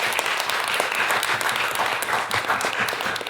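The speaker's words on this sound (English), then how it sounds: "give them a round of applause" Steady applause from an audience honoring four debate teams and three judges at Trinity IV, dense continuous clapping sustained evenly throughout at moderate loudness.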